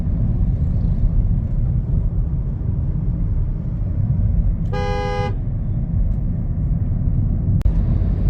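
Steady low engine rumble from an IMT (Intelligent Manual Transmission) car cruising in fifth gear, with a brief horn toot midway and a faint click near the end.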